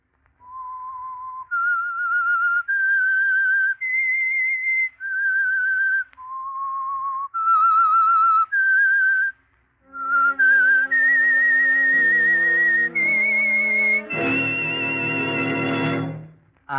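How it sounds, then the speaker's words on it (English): A lone whistler carries the eerie Whistler radio theme, the Signal Oil Program signal, in sustained clean notes, then fuller orchestral-sounding tones swell in under the melody toward the end. "That whistle is your signal for the Signal Oil Program"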